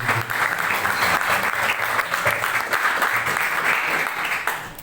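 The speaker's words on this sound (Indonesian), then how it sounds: "Tepuk tangan." Loud, sustained applause from a church training session audience, a thick wash of many hands clapping close by, holding steady for several seconds before easing off at the end.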